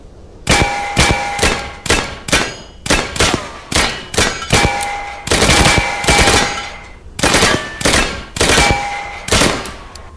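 Tavor TAVR rifle with a foldable, collapsible stock firing on an outdoor range in loud, rapid bursts and single shots, sharp cracks repeating for ten seconds with metallic ringing between them.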